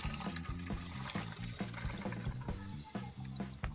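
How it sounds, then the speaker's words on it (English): Cooked baked beans are drained at a kitchen sink, liquid pouring and splashing steadily for a few seconds in a short, gurgling stream, with no speech. "I'm gonna take it over to the sink and drain my beans"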